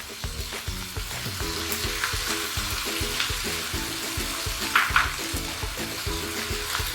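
Red capsicum frying in a pan for a vegetarian shepherd's pie gives a steady, close sizzle that runs without a break, with light stirring clatter and no talk.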